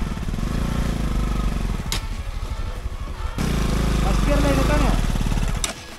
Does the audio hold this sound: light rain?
no